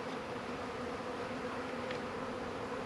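Honeybees from three newly hived packages fly around in a cluster outdoors, giving a steady, low, continuous buzz at moderate level, smooth and even across the whole stretch with no talk.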